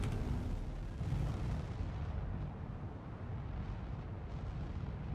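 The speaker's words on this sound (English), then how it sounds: "They are firing now, but they're not hitting anything." Enemy gunfire in the video game Star Citizen, set in an abandoned underground facility: a dense, continuous barrage of booming shots and rumbling blasts that stays loud throughout, with a slight dip midway and no voices.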